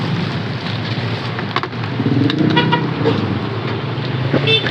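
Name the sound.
rain falling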